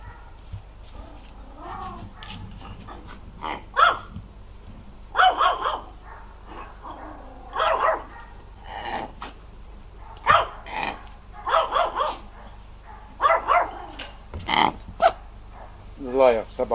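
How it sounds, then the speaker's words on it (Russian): A dog at a home barks repeatedly in short bursts and growls, with yips and whines between, close to the microphone, while people talk and coax it nearby. "Злая собака, да?"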